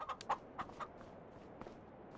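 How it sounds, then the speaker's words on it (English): Chickens in Farming Simulator 25 give a few short, quiet clucks in quick succession near the start, then one more faint cluck about halfway through, over a low hushed background. "Hello, chickens."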